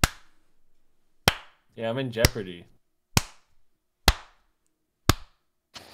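Single sharp hand claps sound on a gaming livestream, about six spaced roughly a second apart, close and crisp with short decays, and a voice speaks briefly between them.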